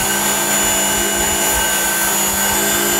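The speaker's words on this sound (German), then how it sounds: "ziehen wir das Messer jetzt ab." A Work Sharp Knife & Tool Sharpener runs its fine abrasive belt against a knife blade, giving a loud, continuous motor whir with a gritty grinding edge that holds steady throughout.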